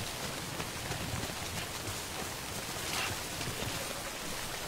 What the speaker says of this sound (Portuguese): Não, mas que chuva, cara.